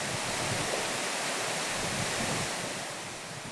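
Steady broadband rush of water from a waterfall, loud and continuous with no voices, easing slightly toward the end.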